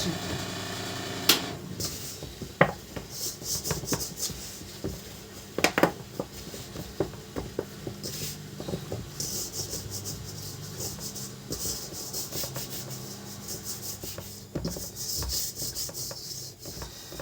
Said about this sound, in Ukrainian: місимо тістечко до чистої миски